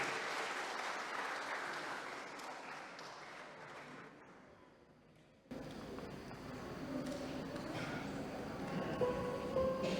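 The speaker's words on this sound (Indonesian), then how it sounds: "Tepuk tangan bagi kita semua." An audience claps at an Easter praise night, a steady wash of applause that thins briefly in the middle, then surges back and holds strongly to the end.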